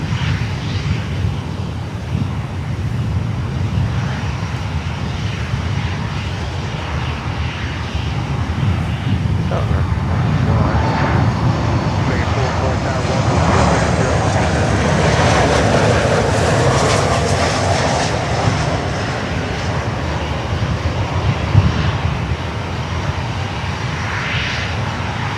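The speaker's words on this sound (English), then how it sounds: "Next one is American Airlines from Bridgetown coming in." American Airlines airliner arriving from Bridgetown lands at Miami airport, a long steady jet roar that builds to a broad, loud peak and then holds as the aircraft passes.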